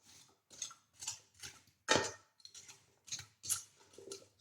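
Cut potatoes tossed with seasoning in a bowl give a series of soft, rhythmic scraping and clinking strokes, about a dozen in steady succession, close and fairly quiet, with no talk.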